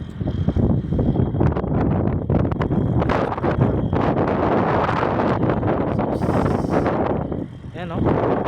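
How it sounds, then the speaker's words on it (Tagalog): Strong desert wind in a sandstorm roars and buffets the microphone nonstop, a dense, loud rush with gusty surges and a brief lull near the end. "Ito malakas ang hangin ha."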